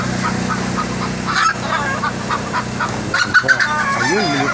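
Chickens call out in short bursts close by in a park, honking and clucking squawks scattered over a steady low background, with a brief voice in between.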